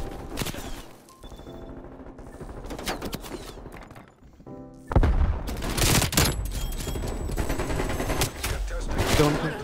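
AK-74u firing tracer rounds in Call of Duty: Cold War: rapid bursts of automatic gunfire in several sharp, loud volleys, with a heavier sustained stretch after a brief pause, mixed with game sounds and a voice talking.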